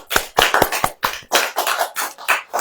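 An audience at a religious sermon claps for a few seconds, a dense burst of handclaps in an uneven rhythm, close and fairly loud.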